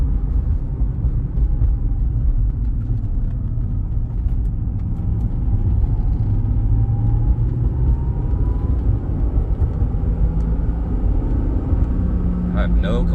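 A 1994 Acura NSX with a manual gearbox cruising along, its steady engine and road rumble droning continuously from inside the cabin.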